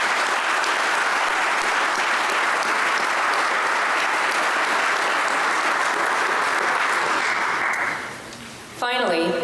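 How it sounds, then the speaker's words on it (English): An audience at a high school scholarship night applauds deserving scholarship students with sustained, dense clapping that fades out near the end, after which a voice begins speaking. "Please give these deserving students a round of applause."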